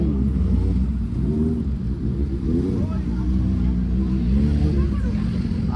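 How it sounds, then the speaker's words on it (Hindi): A superbike on a group motorcycle ride near Benapur beach passes by, its engine note rising and falling in pitch as it approaches and goes by, heard under someone talking. "और गाइस एक साउंड सुनो, और एक आ रहा है सुपर बाइक"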